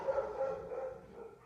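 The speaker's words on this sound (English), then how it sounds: "I kind of try to let my dogs bark it out sometimes" Dogs barking, a few short, moderately faint barks in quick succession within a brief moment indoors.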